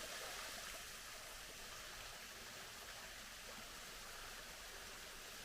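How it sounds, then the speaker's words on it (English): A thin little waterfall on a dry-season trail in Mount Airy, Georgia, gives a steady, even rush of falling water that fills the scene without pause. "it's a beautiful little thin waterfall"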